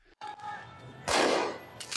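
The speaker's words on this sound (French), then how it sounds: "Regarde ça, il tire des feux d'artifice." Fireworks being fired amid unrest in France: a sharp crack followed by a broad, loud burst of noise with a fizzing tail and another burst starting at the end, moderately near and with no voices.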